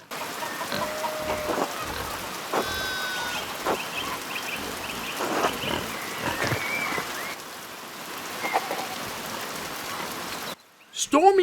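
Rain in the Pentiment video game, a steady patter of rainfall under scattered sharp sounds and brief bursts of talk, dropping away at the end before a short loud burst.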